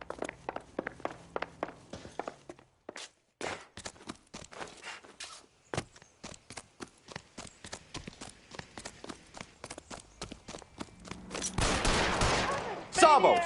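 Gunshots in a PS4 video game, sharp cracks firing in irregular single shots and quick runs across the whole span, mixed with footstep-like taps, ending in a louder noisy burst.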